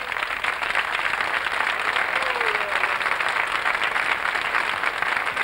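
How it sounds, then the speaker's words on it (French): Studio audience applause on a French television tribute show, a sustained, even burst of many hands clapping at a steady level throughout. "On l'applaudit."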